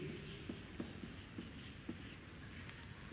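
Writing on a board during a physics lecture on electrostatics, with a faint, steady series of quick scratchy strokes and taps at close range in a quiet room.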